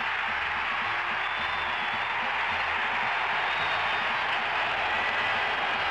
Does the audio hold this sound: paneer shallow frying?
no